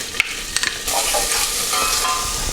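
Chopped onions hit hot vegetable oil in a pot: a few soft taps, then a sudden close, bright sizzle that holds steady to the end.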